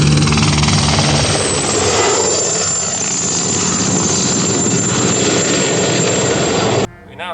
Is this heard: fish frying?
no